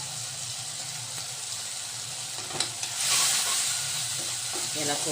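Masala of cumin powder, coriander powder and salt frying in hot oil for a monsoon katwal (spiny gourd) vegetable, with a steady close sizzle, scraping stirs and a louder burst of frying near the end, under brief talk.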